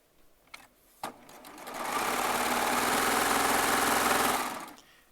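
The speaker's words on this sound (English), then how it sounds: "Now we'll just sew these 2 back together" A serger sewing machine stitches charm squares together in one steady, fast, whirring run of about two and a half seconds, preceded by a couple of soft handling clicks, close and clear.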